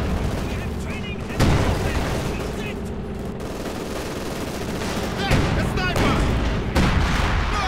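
Mortar and gunfire during a Company of Heroes 2 1v1 battle, with a Soviet mortar crew shelling and houses collapsing: a dense, ongoing rumble of battle with several sharp, loud blasts standing out, likely under a commentator's voice.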